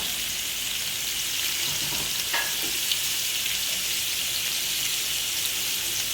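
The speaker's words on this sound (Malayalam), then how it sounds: "നമ്മുടെ സവാള നല്ല പോലെ ഒന്ന് വഴന്ന് വരട്ടെ കേട്ടോ" Onions sautéing in a pan for beef potato curry give a steady, close sizzle with faint scraping stirs, no talk over it.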